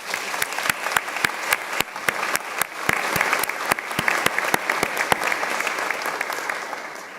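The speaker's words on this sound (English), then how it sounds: "give yourself a round of applause" Applause from graduates and guests at a commencement ceremony in Jo Ann Rooney Hall, a dense sustained wash of many hands clapping with sharp individual claps popping out near the mic, steady for the whole stretch.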